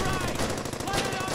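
Dense, rapid machine gun fire in the World War II shooter Brothers in Arms: Hell's Highway, a continuous loud rattle of automatic bursts.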